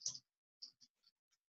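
A handful of faint, sparse keyboard key clicks, one slightly stronger tap followed by four lighter irregular taps over about a second and a half in near silence.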